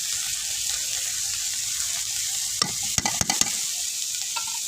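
Vegetables sizzle and fry steadily in a pan for a shrimp and cabbage dish with dried fish, with a few sharp clanks of a utensil stirring near the end and no talk.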